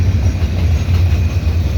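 A CN mixed freight train of gondolas and tank cars rolls past at the Dorval ramps, a steady close rumble of wheels and cars with a low, heavy undertone and no voices.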